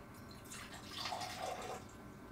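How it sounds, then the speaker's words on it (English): Water splashes and trickles into a container for protein powder for a couple of seconds, soft and close, with no talking. "We'll put some water in here."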